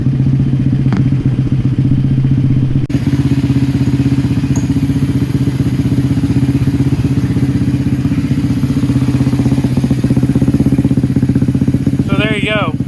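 A scooter engine runs steadily throughout, a loud, even, buzzing drone with a rough mechanical patter, close by and continuous.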